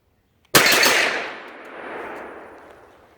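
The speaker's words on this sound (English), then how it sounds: "The only thing that's unsweet about this is the fact that I just burnt through 90 rounds." A SIG MPX-C fitted with a Tac Con trigger fires a rapid string of loud, close shots that blur into one burst, trailing into a long echoing decay.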